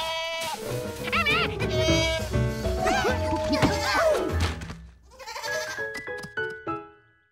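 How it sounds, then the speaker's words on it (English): Cartoon goats bleat loudly and repeatedly, wavering cries overlapping one another, followed by a few sharp clattering knocks. "Suddenly, George wasn't sure they could handle the goats after all"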